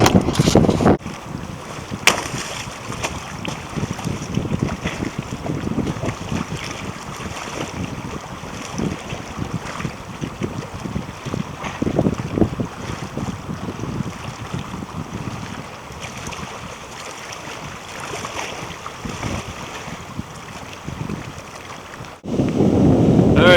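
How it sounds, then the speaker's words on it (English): Steady wind rushes and buffets the microphone over lapping water, constant and fairly loud throughout, with no voices. "It's still a little windy."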